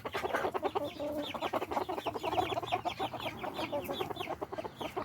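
Baby chicks peep in a high, rapid chorus while hens cluck nearby in a barnyard, busy and overlapping, fairly faint.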